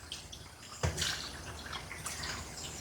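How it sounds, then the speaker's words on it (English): Water running over a Shih Tzu being wet down for a grooming bath, a steady close splash and spray with a couple of sharper bursts. "You gotta really wet the dog to get that hair nice and ready to receive the shampoo."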